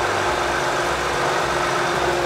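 A Land Rover Discovery with the SDV6 2.7 diesel idles up close, a loud, even rumble and whir holding steady without revving.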